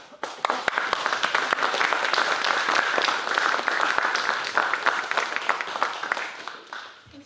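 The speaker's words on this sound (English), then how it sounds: "Thanks for leading the applause, whoever you are back there." Dense, sustained applause from a festival audience at the Fringe North 2024 opening ceremony, many hands clapping steadily for several seconds before fading out at the end.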